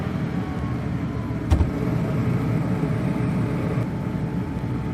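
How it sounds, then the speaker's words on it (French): Truma LPG heater burner running just after gas ignition: a steady, close, roaring rumble with one sharp click early on, continuing evenly throughout with no talking. "Et maintenant, l'arrivée du gaz."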